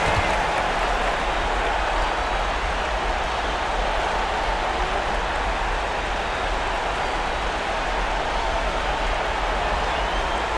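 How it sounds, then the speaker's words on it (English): Steady, dense applause from a large crowd at an NBA Eastern Conference Finals game between the Indiana Pacers and New York Knicks, continuous and even throughout with no breaks. "Give yourself a round of applause."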